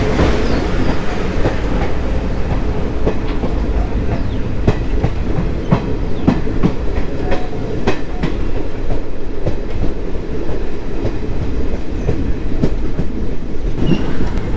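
Kollam–Chennai Mail express train running through a ghat section, heard from on board as a steady loud rumble with rhythmic clickety-clack of wheels over rail joints and occasional metallic clanks throughout.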